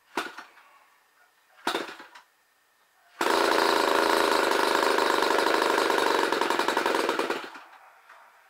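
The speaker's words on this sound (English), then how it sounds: "It probably wants the carb set up a lot and which is a low idle, this one." A small engine fitted with a twin spark ignition conversion fires up after two short pull attempts, then runs loud and raspy near at hand for about four seconds before cutting out.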